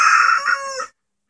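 Several chickens and roosters at a backyard hen run give a loud, close rooster crow with clucking underneath, lasting just under a second before cutting to silence.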